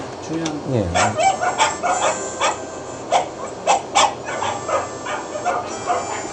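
Harmonica notes play in short bursts while a dog howls and yips along at close range, the voices rising and falling together.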